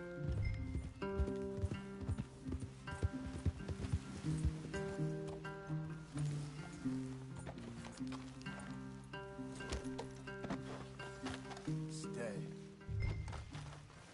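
Horse hooves clip-clop at a walking pace in Red Dead Redemption 2. The steady hoofbeats run beneath a layer of tonal music, and voices speak over them at times.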